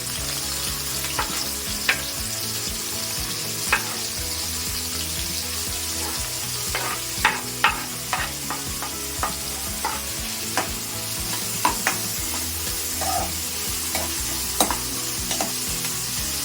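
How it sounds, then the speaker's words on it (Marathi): Chopped onion sautéing in hot oil in a home kitchen, a steady close sizzle with occasional scraping clicks of a spoon stirring the pan, no voices. "इथे आता तेल तापलंय त्याच्यात मी हा कांदा परतून घेते"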